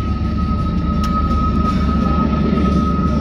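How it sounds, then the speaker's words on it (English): A train passing by a park near a courthouse, a steady low rumble with a faint sustained tone running through, fairly constant and at moderate distance, with no talking. "Got a train coming,"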